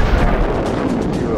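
Rumbling blasts and gunfire-like booms from jet combat in the game Modern Jet Fighter, an Egyptian MiG-21 mission, form a dense, continuous loud barrage over the short span.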